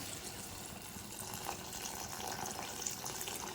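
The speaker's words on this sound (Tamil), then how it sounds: "பரட்டினதுக்கப்புறமா உங்களுக்கு தேவையான அளவு தண்ணி ஊற்றிக்கோங்க" Water streams steadily into a cooking pan of eggplant, a continuous soft splashing pour with no talking.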